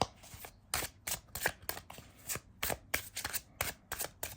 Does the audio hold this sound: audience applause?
no